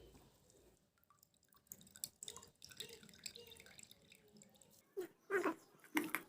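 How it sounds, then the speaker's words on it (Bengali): Grated potato being squeezed by hand, wringing out water for a potato pizza, with soft close wet drips and splashes, louder squelching bursts near the end, no speech. "এইভাবে আমি আলু থেকে জল নিংড়ে বের করে নিলাম।"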